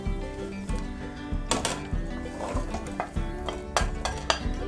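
Chopped vegetables stirred in a pot with browned garlic for a fish broth, a spoon scraping and clinking against the pan in a repeated rhythm over a light sizzle, close and moderately loud.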